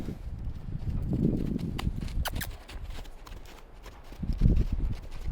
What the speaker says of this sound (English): I asked my horse to go in a circle around me while I was talking to you.